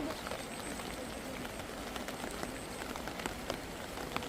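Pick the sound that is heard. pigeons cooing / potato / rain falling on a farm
rain falling on a farm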